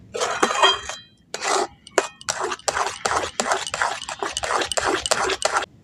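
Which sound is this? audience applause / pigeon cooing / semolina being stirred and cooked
semolina being stirred and cooked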